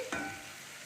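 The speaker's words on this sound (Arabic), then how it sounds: "هنحمر كده الثوم بتاعنا كده الجميل ده" Garlic frying in a pan with oil while cooking shrimp molokhia, a short sharp sizzle burst that settles into a steady soft hiss, close and alone.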